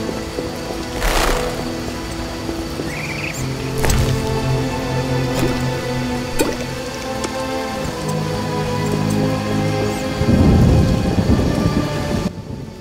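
A constant hiss of heavy rain pours down in The Witcher game while booming thunder rolls in, with a sharp crack early and a deep rumble near the end, no voices.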